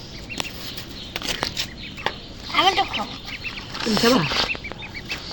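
Ducklings quack in short, scattered bursts amid soft pecking and rustling sounds as they eat, fairly close, with faint background voices.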